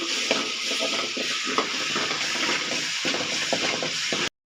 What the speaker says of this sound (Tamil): இது நல்லா வதங்கட்டும் எல்லாம் நல்லா வதங்கட்டும் நல்லா வதங்கட்டும்